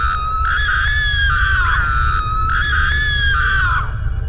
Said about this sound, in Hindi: वो चुड़ैल चिल्ला रही होती है